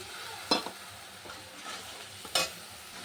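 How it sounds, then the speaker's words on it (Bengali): Spices sautéed with potatoes and cauliflower in an oiled pan, a steady close sizzle broken by two sharp scraping stirs, no talk. "ফুলকপি দিয়ে আলু দিয়ে কষানো হয়ে গেছে মশলাটা।"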